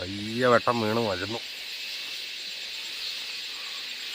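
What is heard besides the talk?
crickets chirping at dawn by a river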